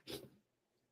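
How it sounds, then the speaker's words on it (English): A single sharp sneeze from allergies bursts out close up, followed by a faint breathy exhale and quiet room tone. "gotta sneeze"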